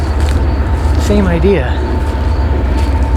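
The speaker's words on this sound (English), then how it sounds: "Oh, sorry about the train" A train passes near an abandoned urban golf course camp, a steady low rumble and broadband roar filling the whole stretch, with a brief horn-like tonal sweep midway and a person talking over it.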